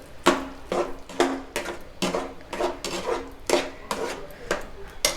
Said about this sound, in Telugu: బాగా మొత్తం బెల్లము పప్పు అంతా కరిగేలా కలుపుకోవాలి.